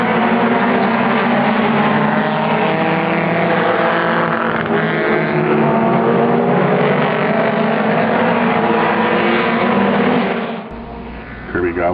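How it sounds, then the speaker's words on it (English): Street stock race cars charge around Kingsport Speedway in a loud, steady wall of engine roar that holds for most of the stretch, then drops away near the end. "Kirby Gobble coming down to take the checkered flag."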